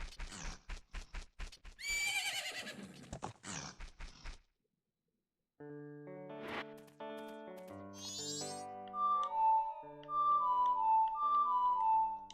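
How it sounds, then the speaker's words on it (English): Epona, Link's horse in The Legend of Zelda: Majora's Mask, gives a loud synthesized whinny amid galloping clip-clop hoofbeats, then the game's melodic music plays on after a short silence. "That's my freaking horse."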